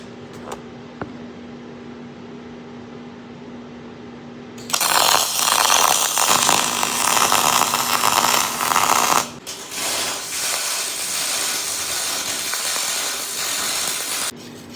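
A MIG spool gun welds aluminum with 35 thousandths wire, giving a loud steady crackling hiss that starts abruptly, runs for several seconds, pauses briefly, then continues more softly.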